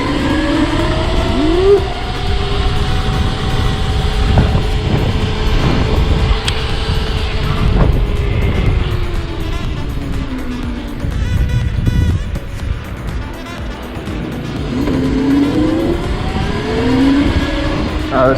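A 52V upgraded Razor electric scooter accelerating on a wet road, with a rising motor whine climbing in pitch, tyre hiss and wind noise, loud and close throughout, with a brief voice partway through.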